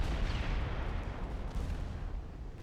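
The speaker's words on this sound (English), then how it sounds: "I have the feeling my ships are firing HE rounds again" Warship guns firing high-explosive rounds in a naval battle in Ultimate Admiral Dreadnoughts, a dense continuous rumble of booming artillery with no talk.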